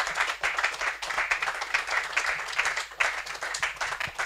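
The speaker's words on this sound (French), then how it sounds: "Applaudissons pour la gloire de Dieu." At a church conference, a congregation applauds to glorify God, a fairly faint but steady patter of hand claps with individual sharp claps standing out.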